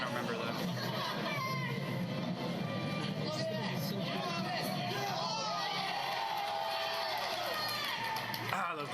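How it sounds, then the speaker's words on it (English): A tournament crowd at a Super Smash Bros. crew-battle event cheers, whoops and shouts, with loud, dense chatter filling the room throughout. "Crowd reactions."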